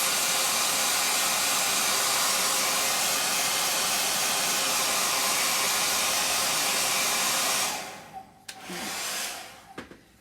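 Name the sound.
dryer drying a chalk paste transfer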